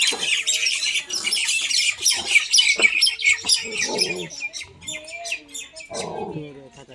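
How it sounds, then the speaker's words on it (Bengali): Four common mynas quarrel close by, a dense burst of harsh squawks and chattering calls that continues through the clip, with a person talking intermittently. "4টে শালিক পাখি,"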